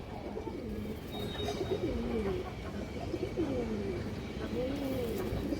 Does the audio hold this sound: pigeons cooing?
yes